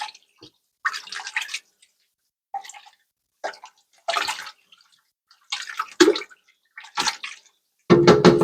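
Seafood stew with butter is stirred in a pot, heard as intermittent wet sloshing and splashing bursts with short silent gaps, ending in a denser, louder stretch of stirring.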